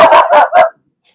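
A dog barks three times in quick succession, loud and close, then falls silent.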